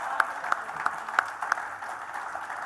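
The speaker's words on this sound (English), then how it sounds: "I do want to give one more a round of applause one more time to Momo, your first prize winner here at the Finger Shop" A small audience gives sparse, faint applause for a first-prize winner at a music shop contest, with a few sharper individual claps standing out.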